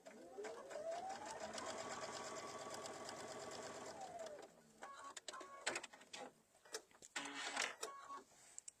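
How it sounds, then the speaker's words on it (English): A sewing machine runs a steady, close whirring seam along a 1/4-inch line on a quilt-as-you-go zippered cosmetic bag for about four seconds, then stops, followed by scattered clicks and fabric handling. "And I'm going to stitch on that line with my 1/4-inch."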